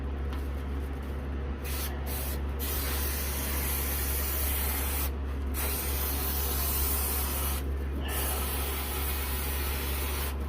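Steady, loud hiss of spray foam insulation being applied to the ribbed ceiling of a camper van, continuous throughout with brief dips where the spray pauses.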